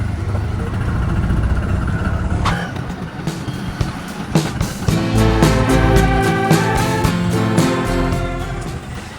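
An auto rickshaw engine runs steadily and close by, its rattling drone rising and falling with some mechanical clatter throughout.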